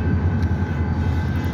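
A Norfolk Southern shunter train rolls past a railroad crossing, giving off a steady low engine rumble with a faint sustained tone above it, continuous and fairly close, with no voices.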